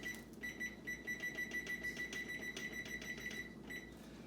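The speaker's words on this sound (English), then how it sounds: "we're gonna set our timer for 30 minutes" A kitchen oven timer being set gives a rapid run of steady high-pitched beeps that repeats evenly for several seconds, fairly faint against a low room hum.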